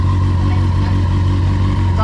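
A Kawasaki Ninja 600 motorcycle engine running with a loud, steady droning idle close by, a brief rising rev near the end, and someone talking over it.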